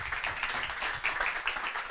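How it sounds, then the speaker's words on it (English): Dense, continuous clapping from an audience, a steady wash of applause with no voices standing out. "So please welcome Adarsh with a big applause."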